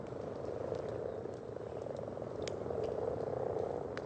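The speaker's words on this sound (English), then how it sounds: "is a frog croaking" Frog croaking at a garden pond in winter, a steady chorus of repeated rasping croaks close by with a few brighter calls standing out, no voices.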